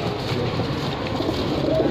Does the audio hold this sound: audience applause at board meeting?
no